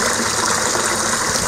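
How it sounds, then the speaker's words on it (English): Water flows steadily in a Wisconsin garden in September, likely from a small garden water feature, a continuous close rushing wash with no pauses. "just sitting out here listening to the water"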